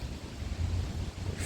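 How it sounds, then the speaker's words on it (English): A flowing creek outdoors gives a steady, continuous rushing wash with a low, rumbling undertone like wind, with no voices. "So yes, the creek still flows."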